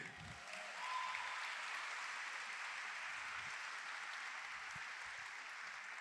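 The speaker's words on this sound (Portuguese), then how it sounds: "Pode aplaudir?" A church congregation applauds steadily, a continuous, fairly soft wash of many hands clapping that swells early and holds at an even level throughout.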